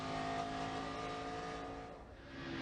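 Loud, steady on-board engine drone from behind Wally Dallenbach's stock car at the 2004 Mr. Goodcents 300, holding at racing speed with a brief dip near the end before building again.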